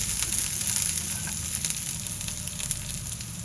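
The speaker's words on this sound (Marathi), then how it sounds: "आपण यावर खोबरं, 2 मिरच्या, आलं आणि लसूण घालूया. आणि पुन्हा खोबरं लालसर रंगावर होईपर्यंत परतून." Onion, coconut, chillies, ginger and garlic sauté in a pan, a steady close sizzle with faint occasional stirring, even in loudness and free of talk.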